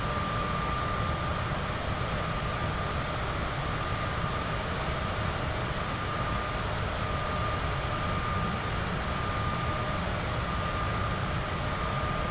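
Steady, loud aircraft engine drone in the Neofly flight simulator game, throttling up, a constant broadband roar with a fixed high whine held evenly throughout, no voices over it.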